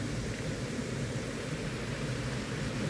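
Steady, dense rushing water of a nearby waterfall roars continuously without pause, a broad even wash of sound.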